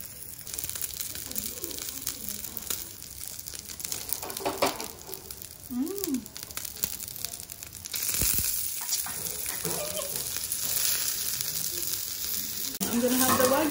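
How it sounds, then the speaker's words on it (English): Two slices of wagyu beef sizzle steadily in oil at a Japanese ryokan feast in Atami, a continuous close frying hiss with brief clinks and faint speech around it. "Here we have some wagyu beef slices and I'm gonna cook this."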